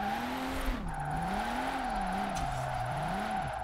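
A car drifts on a mountain road in Forza Horizon 4 with no handbrake, its engine note wavering up and down as the revs swing through slides, over a constant tire-squeal-like hiss, with no talking.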